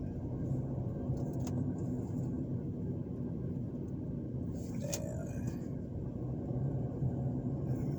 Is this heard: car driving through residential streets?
yes